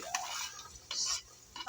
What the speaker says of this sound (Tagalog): At ilalagay na natin yung ating unang piprituhin ang luya.